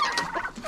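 Farm chickens cluck and chatter close by in a short, busy burst of overlapping calls, with no talking.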